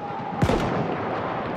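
A single sharp gunshot in the Battlefield 1 video game, set in World War I, cracks out loudly amid the ongoing battle ambience, with a tone fading just before it.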